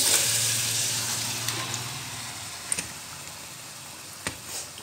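Marinated chicken sizzles as it goes into a pan of frying onions. The hiss starts strong and slowly fades, with a few light ticks and clinks from stirring.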